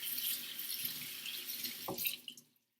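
Hands rinsed under a running kitchen tap while making tuna salad, a steady hiss of flowing water with splashing as the hands move, ending when the faucet shuts off.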